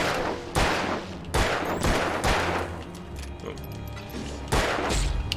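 Gunshots ring out in the video game Alan Wake, several loud, sharp booms a second or so apart, each with a short ringing tail over a low game ambience.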